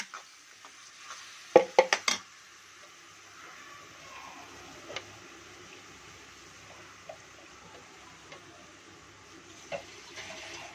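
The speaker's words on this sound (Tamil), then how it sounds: "கட் பண்ணி வச்ச தக்காளி போட்டுக்கலாம்" Chopped tomatoes dropped into a pan for mushroom masala, a few sharp clatters as they land followed by soft, low frying sizzle with occasional light taps.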